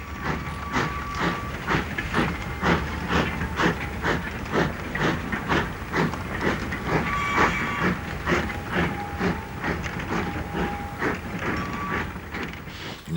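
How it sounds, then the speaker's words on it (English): A steam locomotive hauling a divided train slips to a standstill, giving a steady, loud run of rhythmic chuffing and clanking with rail noise and hissing throughout, and no voices. "The engine has slipped to a standstill and the train has had to be divided"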